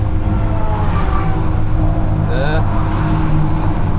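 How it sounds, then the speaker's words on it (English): A car's engine labors at a steady, strained drone while climbing a hill and losing speed, loud and continuous from inside the cabin, with a brief higher whine partway through. "I never had the car drop speed this much."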